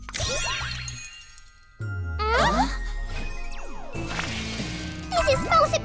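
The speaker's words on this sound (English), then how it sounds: "Put the bell on the catcher." Cartoon bell jingling on a catcher device, bright tinkling chimes in short bursts mixed with dings and animated sound effects, separated by brief pauses.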